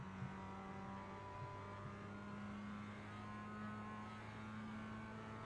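Mazda MX-5 Cup race car in the iRacing sim at Okayama, its engine droning steadily at high revs as it accelerates on throttle, a sustained near, even tone with no talk.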